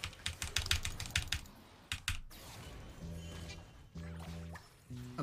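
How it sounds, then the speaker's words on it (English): Computer keyboard keys clatter in quick bursts of sharp clicks during a League of Legends match, close and fairly quiet, while tonal game sound effects chime in the later part. "it's typing, by the way"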